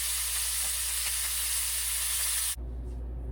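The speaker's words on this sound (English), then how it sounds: "now I have seared all of these ribs and oxtails" Beef ribs and oxtails sear in a hot pan, a loud dense sizzling hiss held steadily for about two and a half seconds before it cuts off abruptly, leaving a low hum.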